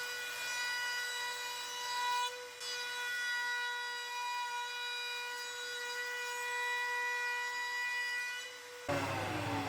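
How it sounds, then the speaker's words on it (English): Router cutting a 45-degree chamfer along the edges of a wooden sharpening station, a loud sustained high whine held steadily for about nine seconds, with a brief dip midway and a shift in tone as it ends. "Now I'm going to use the router to add a 45-degree chamfer to the sharpening station."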